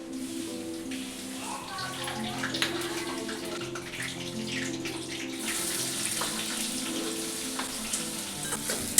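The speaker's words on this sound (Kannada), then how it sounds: "ಎಣ್ಣೆ ಬಿಸಿ ಆದಮೇಲೆ ಸ್ವಲ್ಪ ಜೀರಿಗೆ, ಸಾಸಿವೆ ಮತ್ತು ಕರಿಬೇವು ಹಾಕ್ಕೊಂಡಿದ್ದೀನಿ" Cumin, mustard seeds and curry leaves frying in hot oil, a continuous crackling sizzle that grows brighter partway through, under a steady tonal background like music or a voice.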